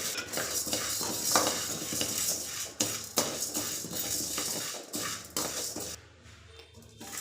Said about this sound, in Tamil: அடுத்தது கடலைப்பருப்பு ஒரு 50 கிராம், உளுத்தம்பருப்பு ஒரு 50 கிராம், ரெண்டையும் சேர்த்து நம்ம நல்லா வறுத்துக்கலாங்க